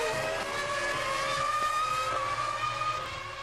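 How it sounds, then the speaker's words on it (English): Formula One race cars at the 2000 Spanish Grand Prix produce a continuous high, tonal engine whine that shifts in pitch as they pass through the turns, loud and steady throughout. "Getting a lot of opposite lock on Mazzacani going through the turns there."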